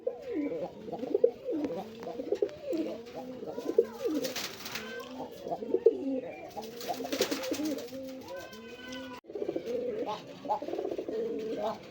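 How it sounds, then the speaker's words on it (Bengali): A pair of Gorra pigeons, an old local breed, coo repeatedly at close range in soft throaty bursts, with a little background noise between calls. "এখানে এক জোড়া গররা কবুতর আছে"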